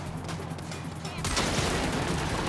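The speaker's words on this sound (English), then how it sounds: "I'm taking fire from multiple directions." Gunfire erupts in the video game Saints Row (2022), a dense loud burst of rapid shots and explosive noise that swells abruptly midway and stays intense to the end.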